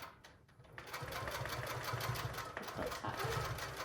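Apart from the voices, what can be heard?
sewing machine basting quilt top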